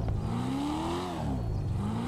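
A Coquette Blackfin car engine revs in GTA Online, a loud, continuous engine note that climbs in pitch, eases off briefly, then rises again.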